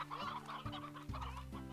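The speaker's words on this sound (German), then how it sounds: "Und hier Hühner." Chickens cluck softly in short bursts in the video game Slime Rancher, over a steady synthesized game music loop with repeating bass notes.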